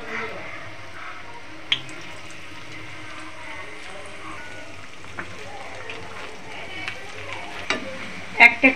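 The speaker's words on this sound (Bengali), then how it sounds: "এইভাবে আবার সব পকোড়াগুলোকে ভেজে নেব।" Eggplant pakoras deep-frying in hot oil give a faint, steady sizzle, broken by a few sharp clinks and scrapes, with louder knocks near the end.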